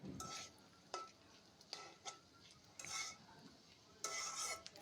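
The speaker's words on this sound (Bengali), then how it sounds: "আলুগুলো একটু ছড়িয়ে দিয়ে ভেজে নিতে হবে, তাহলে ভাজাটা অনেক ঝুরঝুরে হবে।" Potatoes frying in a pan with hilsa fish, a faint steady sizzle punctuated by several scraping stirs as the pieces are turned and spread out, no speech.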